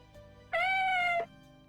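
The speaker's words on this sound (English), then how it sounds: "an adorable gray and white kitten" A gray and white kitten gives a single clear, drawn-out meow, close and fairly loud against a quiet background with no talking.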